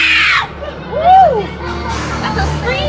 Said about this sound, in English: That's a scream.